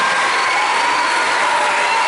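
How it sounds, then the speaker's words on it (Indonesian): Dense, continuous clapping from a church congregation at a Christmas service, loud and steady throughout with no pauses. "Mari kita tepuk tangan karena kita bisa dibuat hebat"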